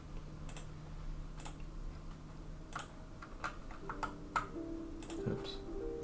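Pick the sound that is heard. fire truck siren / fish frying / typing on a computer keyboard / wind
typing on a computer keyboard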